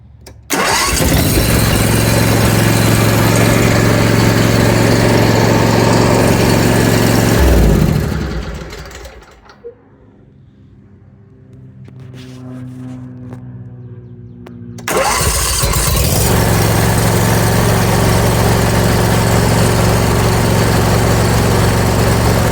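A Briggs and Stratton small engine, freshly fitted with a new fuel pump and fuel line, cranks and catches, then runs at a loud steady idle, drops away briefly in the middle, and roars back up to a sustained close drone.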